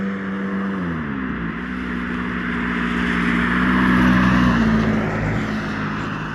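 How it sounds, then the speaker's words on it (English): A car passing by on a wet road with puddles, a steady engine and tire hiss swelling toward the middle and fading, heard up close with no voices. "That was a car."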